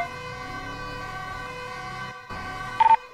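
An ambulance siren in a roleplay video game wails in steady sustained tones over engine drone, cutting out briefly near the end before returning with a few short sharp bursts.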